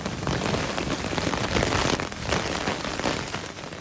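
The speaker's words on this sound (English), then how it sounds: "People sought cover from torrential downpour on the northeast side of San Antonio that quickly turned into hail." Torrential rain pours down steadily during a severe thunderstorm on the northeast side of San Antonio, a dense, loud hiss of heavy drops hitting surfaces continuously, with no voices.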